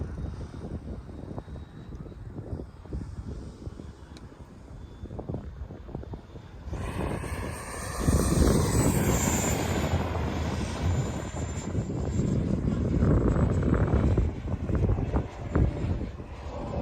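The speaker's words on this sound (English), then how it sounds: "Fast pass right here. Full throttle." An E-flite Blue Angel RC jet makes a fast pass at full throttle, its ducted-fan whine rising from a distant hum into a loud, roaring close flyby that stays strong and slowly fades, with some wind noise.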